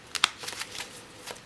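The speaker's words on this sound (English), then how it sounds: "So let's shuffle your cards" A deck of tarot cards is shuffled in a few quick riffling bursts, close and crisp, with short pauses between them.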